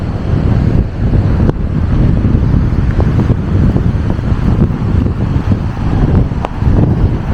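Blustery seafront wind roars steadily against the microphone on a beach, loud and unbroken with surging gusts, no voices heard.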